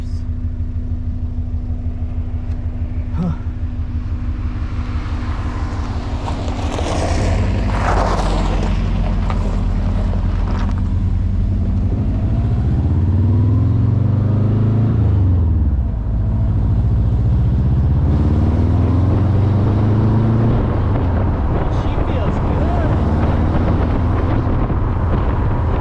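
A Karmann Ghia fitted with a swapped-in Subaru engine runs with a steady engine drone that builds into harder acceleration, loud and close with heavy wind rush across the microphone.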